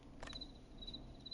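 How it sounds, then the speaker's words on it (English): Cricket chirps from a sound effect in the video game Killer Frequency, a faint, thin, high trill pulsing in short repeated bursts over a low background hum. "Crickets?"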